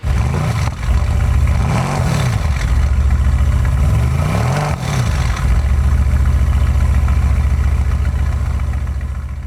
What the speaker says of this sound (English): get full exhaust throaty note coming out of this vehicle